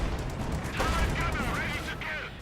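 Artillery bombardment in the wartime strategy game Company of Heroes 2, a mix of booming shell impacts and crackling gunfire with whistling sounds, steady and continuous alongside faint game noise.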